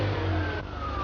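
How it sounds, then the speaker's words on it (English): A fuel-injected Ferrari 348 engine fires up instantly, a steady mid-pitched engine note that holds close and loud through a brief moment with no voices. "But with fuel injection, it's up and running the instant you turn the key."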